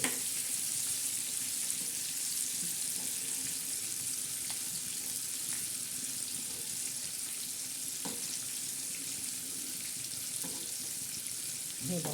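Bangda mackerel fish coated in rava and flour frying in hot oil, a continuous close sizzle with a few faint clicks and stirring knocks, steady from start to finish.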